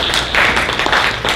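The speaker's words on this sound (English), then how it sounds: "Please give me a round of applause again for all of their hard effort" A convention cosplay showcase audience breaks into applause, a brief, loud burst of many hands clapping close by with no talk over it.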